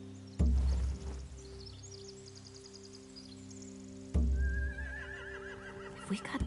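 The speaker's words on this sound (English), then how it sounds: "They have horses." Two loud horse neighs a few seconds apart in the video game The Walking Dead: The Final Season, over a steady background hum, with faint bird-like chirps in between.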